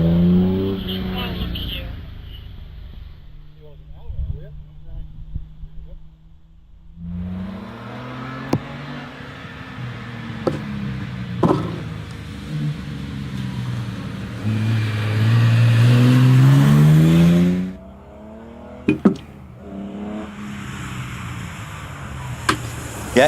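A heavily modified classic Jaguar E-Type race car with a soft top and its Jaguar engine in the front, heard at a hillclimb. The engine swells and rises through the gears, peaks in a loud howl as the car passes close, then fades, while commentary continues over it.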